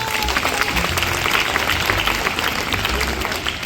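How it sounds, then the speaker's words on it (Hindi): Schoolchildren clap together for their teacher, a brisk, full round of applause lasting a few seconds, with a faint murmur of voices underneath. "और एक बार बच्चों हमारे राजेंद्र सर के लिए दोबारा से तालियां।"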